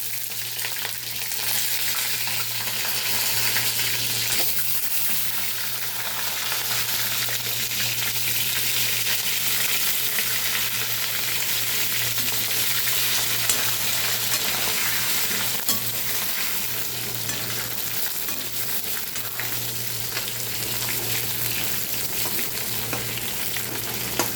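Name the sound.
masala-stuffed brinjals frying in hot oil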